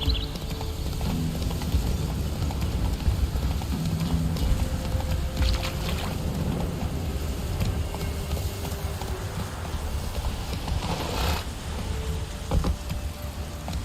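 Galloping horse hooves from The Witcher 3 video game, a steady rapid clip-clop under a constant dense wash of game ambience and noise, fairly loud throughout.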